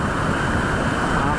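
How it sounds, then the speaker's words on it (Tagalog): Large ocean waves in the aftermath of Typhoon Kristine make a steady, broad rushing roar of surf, loud and close, with no break in the wash of sound. "Tingnan nyo yung lalakan ng alon no?"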